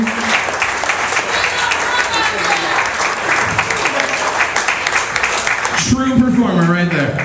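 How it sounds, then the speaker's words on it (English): Audience applause at a talent show finals, sustained loud clapping from a crowd with a voice speaking over it, easing off near the end. "give him a huge round of applause"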